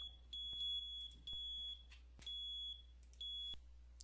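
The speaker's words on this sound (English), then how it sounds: "Silence the alarms so we are not distracted." Furnace control alarms beep in a repeating electronic pattern of bursts, each a run of sharp, high-pitched tones with short gaps between, loud and close in an otherwise quiet industrial room.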